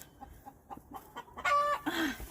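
A farmyard rooster clucks in a series of short, close calls that build into louder, drawn-out squawks near the end, standing alone without talk.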